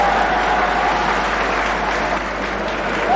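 Dense, steady applause from a crowd fills the whole stretch, loud and continuous without any break.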